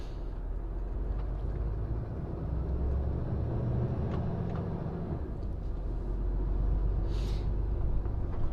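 An HGV lorry drives through a built-up residential area, heard from inside the cab as a steady low engine rumble and road drone, with a brief faint hiss near the end.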